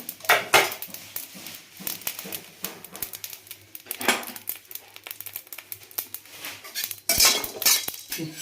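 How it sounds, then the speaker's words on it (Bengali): Whole spices stirred in a dry kadai make rapid close scraping, rustling and clinking that continues throughout, with a louder rattling stretch toward the end. "এবার মশলাগুলো একটু শুকনো কড়াইতে"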